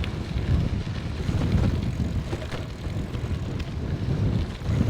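Wind buffeting the microphone while riding a budget gravel bike into a headwind, a constant low rumbling roar that surges and eases, close and without speech.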